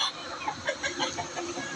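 Chickens clucking nearby in a busy overlapping chatter, short repeated calls from several birds at once.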